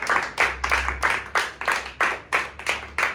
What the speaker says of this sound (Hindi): इनके लिए भी जोरदार तालियां हो जाए।